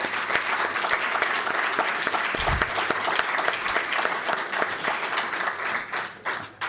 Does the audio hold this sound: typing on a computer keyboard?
no